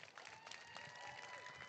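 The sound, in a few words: audience applause at a graduation ceremony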